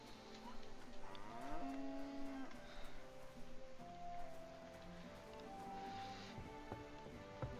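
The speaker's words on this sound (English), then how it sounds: "Cow." Cow mooing in the medieval video game Kingdom Come: Deliverance, a drawn-out low call heard over steady game ambience and music.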